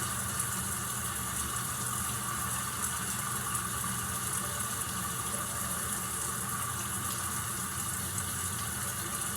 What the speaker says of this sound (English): now we'll run some hot water down the drain